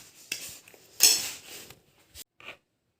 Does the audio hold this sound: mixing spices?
yes